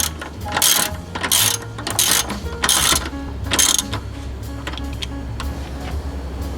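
Ratchet wrench tightening bolts on the inverter of a 2010 Toyota Prius, heard as loud bursts of rapid clicking ratchet strokes in a rhythmic series, close up, then quieter scattered clicks.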